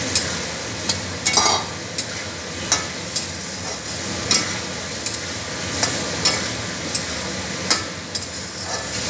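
Potatoes stir-fry in a pan of kasha mutton with a constant sizzle, while a spatula scrapes and taps the pan in an irregular rhythm, close and loud, with no talking.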